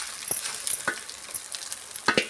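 Egg rice gets stirred in a hot frying pan, a soft sizzle running underneath while a spatula scrapes and taps the metal in scattered strokes, close and alone.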